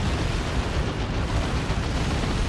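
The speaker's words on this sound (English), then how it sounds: "That's the D-Cannon shot." A D-Cannon fires in the Dawn of War 2 strategy game, producing a loud, continuous rumbling blast with dense explosive crackle that fills the whole moment without pause.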